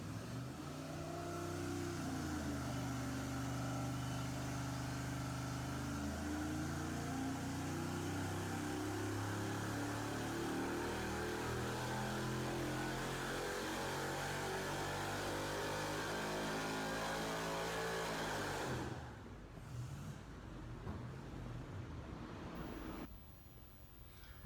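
Turbocharged LS V8 fitted with an upgraded cam and valve springs revs hard and steadily up and down for about twenty seconds, loud and close, then cuts off abruptly into quiet.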